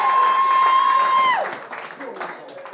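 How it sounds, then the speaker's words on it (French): Audience at a French slam poetry playoff event applauding, a broad wash of clapping under a sustained tone and a voice, thinning out after a moment as talk continues. "Applaudissez pour vous-même, s'il vous plaît."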